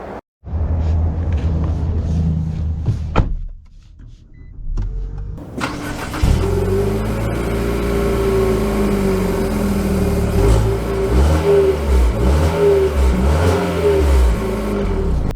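A 2023 Infiniti QX55 crossover cranks and fires up after a brief quiet stretch, then its engine revs and pulls through rising and falling acceleration, loud and close, with a steady rumble and no speech.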